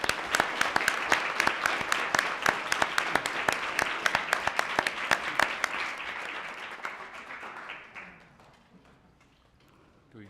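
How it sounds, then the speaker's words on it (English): An audience at a school board meeting claps loudly and steadily for several seconds, then the applause thins out and fades into quiet. "let's give her a big round of applause"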